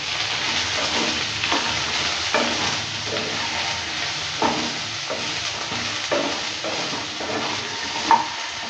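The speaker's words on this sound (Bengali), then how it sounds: "লবণ হলুদটা দেওয়ার পর ভালো করে আবারও নেড়ে নিচ্ছি" Prawns fry in a pan with salt and turmeric as a utensil stirs them, giving a continuous close sizzle broken by repeated scraping strokes, with no talk.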